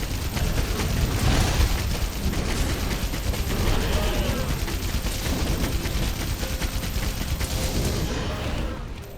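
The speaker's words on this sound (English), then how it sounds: "Wyvern Heart changes the heavy bowgun into chain gun, offering extremely strong barrage of projectiles." The Wyvern Heart heavy bowgun firing as a chain gun in Monster Hunter World, a continuous dense barrage of rapid projectile shots with mechanical clatter and booms, loud and sustained throughout.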